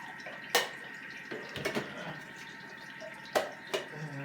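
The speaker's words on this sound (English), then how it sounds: "let's also pour a little bit of water into our milk" Water is poured into a milk frother, heard as a few scattered splashes and drips with quiet gaps between them rather than one continuous pour.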